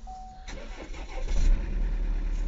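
A 2017 Opel Insignia with an automatic gearbox starts up: a short starter crank, then the engine catches and settles into a steady close idle.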